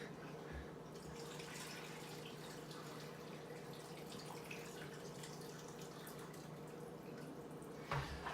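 Distilled water pours steadily into a blender jar for a smoothie, a faint, continuous trickling wash that runs unbroken for several seconds before a brief bump near the end.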